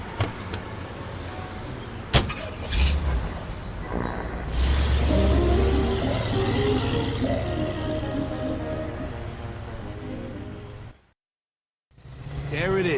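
A car in the video game Mafia II starts up with door clunks, then its engine hums and revs steadily as it drives off before a brief silent cut; some speech occurs.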